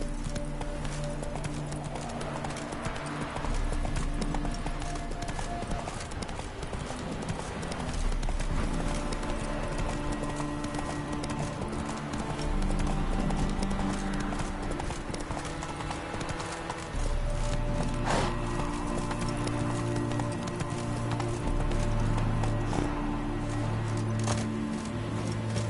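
Steady rhythmic clip-clop of a horse's hooves trotting in The Witcher 3: Wild Hunt, continuous and fairly close, set over a low game music bed.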